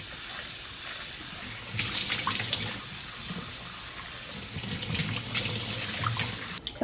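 Running tap water pours steadily into a kitchen sink while raw shrimp are rinsed, a continuous close splashing stream with brief louder surges as hands move the shrimp.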